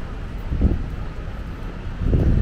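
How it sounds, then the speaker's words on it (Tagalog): Steady wind buffeting a microphone outdoors in Taichung, Taiwan, a low rumbling roar with gusts swelling and easing throughout, no voices. "Mahangin kasi dito."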